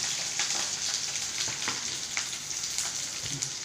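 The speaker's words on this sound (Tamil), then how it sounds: "கருவேப்பிலை வெள்ளைப்பூடி இந்த வெங்காயத்தெல்லாம் அதில் போட்டு சேர்த்து வதக்கிக்கணும்" Steady sizzling and crackling of small onions, garlic and curry leaves sautéing in a hot pan, with occasional stirring clinks; continuous and close, no voices.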